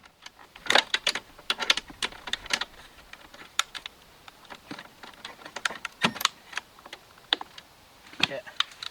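A hand ratchet tightens bolts on a Euro Sport upper front stress bar fitted to a VW Golf R, giving quiet, close, irregular bursts of sharp clicks separated by brief pauses.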